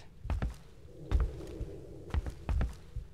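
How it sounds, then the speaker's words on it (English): A muffled heartbeat thuds behind a door in the horror game Cry of Fear, low paired beats repeating steadily at moderate volume. "why can I hear a heartbeat behind this door?"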